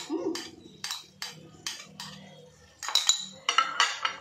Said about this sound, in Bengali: এবার একটু চিংড়ি মাছটা দিয়েও আমি একটু নাড়াচাড়া করবো